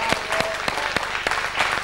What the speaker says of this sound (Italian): Mi date un applauso!